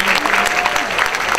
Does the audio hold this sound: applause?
yes